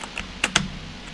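Computer keyboard keys clattering during a Final Fantasy VII mod game: two sharp, close key presses in quick succession, with a faint lighter tap just before them, over a quiet background.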